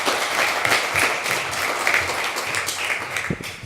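Warm audience applause after a talk: a steady wash of clapping from a sizeable crowd, loud and even for a few seconds, starting to thin slightly near the end.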